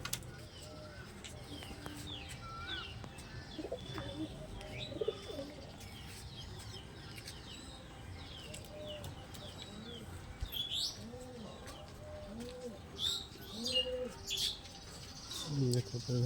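Domestic pigeons coo inside a newly built coop. Soft, repeated throaty coos mix with light chirps and occasional wing rustles against a low background hum.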